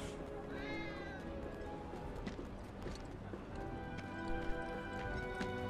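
A cat meows in a video game, a few thin, wavering cries over a busy game soundscape of steady ambience and scattered clatter, with no clear voices.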